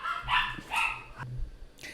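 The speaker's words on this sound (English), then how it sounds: "Sorry, puppies are on high alert today." Dogs barking indoors: a few sharp, close barks in quick succession, fairly loud, with no talking over them.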